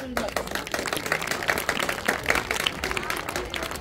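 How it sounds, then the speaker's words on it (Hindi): After a Republic Day speech in India, a crowd breaks into dense, close applause, with a voice carrying over the clapping. "जोरदार ताली बजाइए आप लोग"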